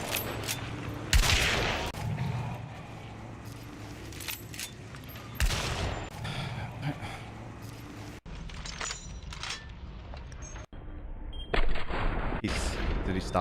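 Gunfire in the video game Hunt: Showdown comes as loud, sharp shots over dense in-game ambience, with a few prominent blasts spaced several seconds apart and abrupt cuts in the background sound.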